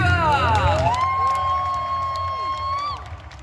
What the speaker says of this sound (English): Let's give another round of applause for our 2023 European International Pokemon finalists!